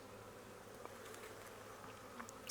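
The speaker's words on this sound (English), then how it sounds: "I got a bee at my face." Honey bees buzzing around an open beehive during a brood inspection, a faint, steady insect hum with occasional closer passes near the microphone.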